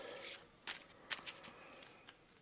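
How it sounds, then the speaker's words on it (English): A deck of cards for the Eldritch Horror board game is given a quick shuffle, making faint papery riffles and a few soft, crisp bursts at close range. "We'll give it a crap shuffle"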